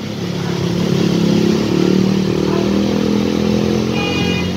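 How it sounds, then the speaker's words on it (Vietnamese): A motorcycle rides through a deeply flooded street after heavy rain in the Thao Dien area of Saigon, its engine droning steadily and fairly loud, with water and traffic noise around it. "Rồi anh mô tô chạy đó."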